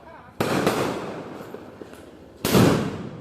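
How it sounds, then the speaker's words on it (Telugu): A box of Diwali firecrackers goes off in two loud bangs about two seconds apart. Each bang is followed by crackling that trails away, with faint background noise between them. "మళ్ళీ చూడండి అది పేలిపోతుంది ఇప్పుడు డబ్బా."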